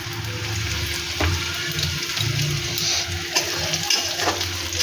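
Pointed gourd and jackfruit seeds fry in a pan for a vegetarian chochari, giving a steady oil sizzle with occasional stirring scrapes and a low background hum, heard alone without talk.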